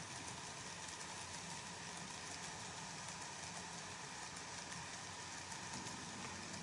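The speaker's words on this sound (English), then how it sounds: "Now we've got some trains running." Steady, continuous mechanical whirring and rumble of model trains, including two C62s, running on a layout loop, constant in level with no pauses and no voices.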